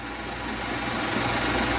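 An Allis-Chalmers tractor engine runs steadily as the tractor moves down a field, a constant mid-pitched mechanical drone with even vibration throughout.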